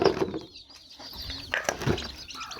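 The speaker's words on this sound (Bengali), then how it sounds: "এই যে মুরগিকে খাইতে দিলাম।" Chickens are fed by hand in a yard, and they give short soft clucks and a few quick scratches and flutters, all faint and close by.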